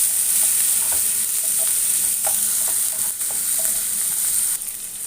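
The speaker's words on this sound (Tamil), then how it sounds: "நல்லா வதக்கிக்கோங்க வெங்காயத்தை." Onions and tomato sautéing in a pan for rava kichadi, a loud, steady hissing sizzle up close with intermittent spatula taps and scrapes, no one speaking.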